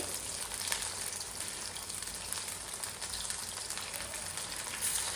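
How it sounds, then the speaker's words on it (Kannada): Green pea ambode batter, made from fresh peas with no onion or garlic, crackles and sizzles steadily in hot oil, a dense, even frying hiss that runs the whole time with no voices over it. "ಈಗ ಇದನ್ನ ಈ ತರ ಅಂಬೊಡೆ ತರ ಹೀಗೆ ಮಾಡಿ ಕಾದ ಎಣ್ಣೆಗೆ ಹಾಕೊಳ್ಳೋಣ"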